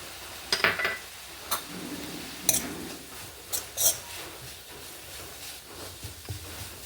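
Carrot and capsicum fry quietly in a pan for masala bread stuffing, a soft sizzle broken by several sharp clicks and scrapes of stirring, close up and without speech.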